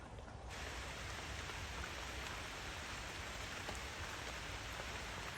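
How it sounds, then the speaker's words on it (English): Steady rain falls outdoors around a small waterproof tent on a sheepskin rug, a dense unbroken patter that stays even and close throughout with no voices. "Can you hear the rain?"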